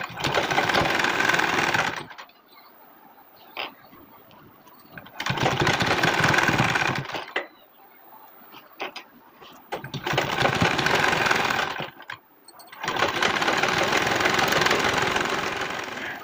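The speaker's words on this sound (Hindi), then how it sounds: "अब इसके ऊपर हम 2 सिलाई लगा लेंगे।" A sewing machine runs in three bursts, each about two to three seconds, as it puts two rows of stitching along a folded strip of net fabric for a blouse's puffed sleeve. The stitching is close and loud with quiet pauses between the bursts.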